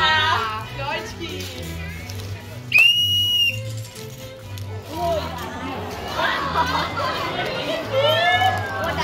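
Loud whistle blasts at a children's circus show, one sharp sustained whistle near the middle and rising whistled notes near the end, over lively crowd chatter and children's voices.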